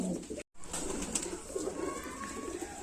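Pigeons kept for sale, including Madras and jiriya breeds, coo softly and steadily through the clip, with a brief dropout near the start.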